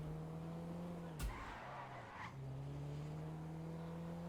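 Tuner car in a video game holding a steady engine drone before a sharp tire skid breaks in, followed by a brief squeal and the engine settling back to its even hum, fairly quiet overall.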